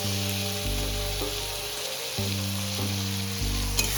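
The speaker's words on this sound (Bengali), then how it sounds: "আদা রসুন বাটাটা একটু নাড়াচাড়া করে নিলাম, একটু কষিয়ে নেব" Ginger garlic paste frying with cooked onion and tomato for a Bengali-style lalantika fish curry, a continuous close sizzle with a low steady hum running beneath it and a few scraping stirs.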